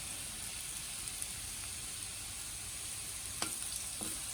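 Potatoes frying in a pan give a steady, close sizzle throughout, with a couple of brief stirring scrapes near the end and no voices.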